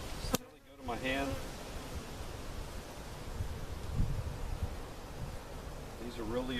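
Aggressive honey bees swarm around an opened hive during an inspection after a cutout, a continuous close buzzing drone with a brief bump near the start and faint murmured voice underneath.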